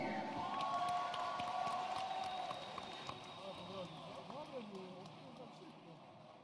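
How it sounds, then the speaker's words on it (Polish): Crowd at a jiu-jitsu fighting event applauding and cheering the competitors, a fairly faint, diffuse mix of clapping and voices under a tonal drone, fading slightly toward the end. "Wielkie brawa dla zawodników!"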